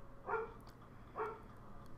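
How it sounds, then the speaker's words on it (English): A dog outdoors in the rain barks twice, two short separate barks about a second apart, heard at moderate distance with no talking. "this freaking animal outside decides that she wants to come in the house and starts barking like a crazy beast"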